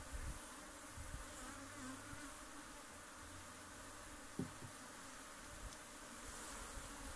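Honeybee swarm buzzing during a honey harvest, a steady, dense, low drone of many bees close by, faint overall, with occasional light knocks.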